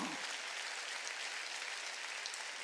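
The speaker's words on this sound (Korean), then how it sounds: "깨달았으면 박수 치라니까" Steady applause from a church congregation during a Wednesday service, dense clapping that fills the space evenly and continues without a break.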